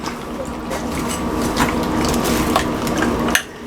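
Stew ingredients with celery and onions being mixed in a bowl for crock pot beef stew, a close, continuous scraping and clinking of a utensil against the dish that stops abruptly near the end.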